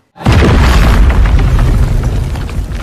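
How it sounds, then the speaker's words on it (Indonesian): A grenade blast tears open a hole in the ground, a loud, booming film-style explosion that hits sharply and then rolls on as a long, dense rumble without fading. "dengan terpaksa mereka pun meledakannya menggunakan satu buah granat"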